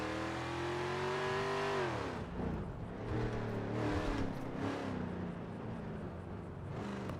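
A car engine in GTA V revs with a sustained, loud harmonic drone that climbs, drops sharply, then fluctuates through uneven rises and falls, with no talk over it.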